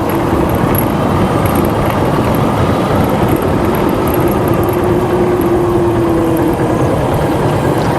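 A motorcycle engine runs on a steep mountain road to Dim Pahar near Alikadam, Bangladesh, a loud, steady, unbroken drone mixed with wind and road rumble.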